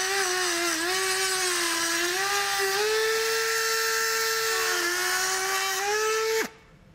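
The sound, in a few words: cutting plastic flaps on a 2019 Ford Explorer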